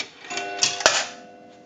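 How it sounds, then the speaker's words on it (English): A quarter drops through the coin validator of an Automatic Electric three-slot payphone, striking the gong with a sharp metallic clank followed by a ringing, decaying tone. "that's going to gong when it falls down through the coin validator into the"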